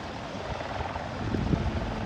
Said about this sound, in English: the helicopter lands